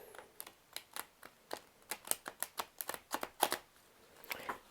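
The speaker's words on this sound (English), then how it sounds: "All right, one more shuffle and then" Tarot cards are shuffled by hand in a quick run of crisp riffling clicks and slaps, close to the listener, with short bursts and pauses and no talk.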